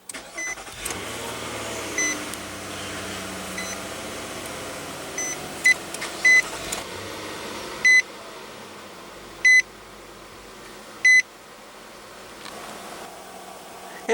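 A 2015 Nissan Murano's 3.5-liter V6 fires up with push-button ignition and settles into a low, steady idle hum, while short electronic chime beeps repeat several times over the engine.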